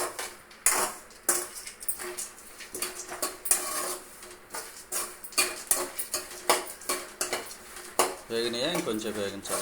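Ingredients frying in ghee in a pan for navaratna laddu, stirred with a metal spoon that clanks and scrapes against the pan in a steady run of sharp knocks, with a faint sizzle underneath and a brief voice near the end.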